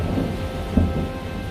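In a cartoon mango orchard, rain pours down steadily and loudly with a low rumble, joined by a brief muffled thump, with no voices heard.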